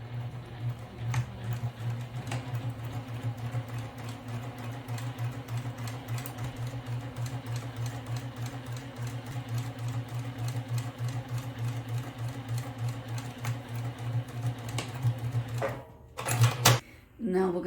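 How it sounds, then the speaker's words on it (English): A sewing machine stitching a bag runs steadily with a rapid mechanical stitching hum, pausing briefly near the end before resuming. "We're here at the sewing machine, and I'm going to start to sew."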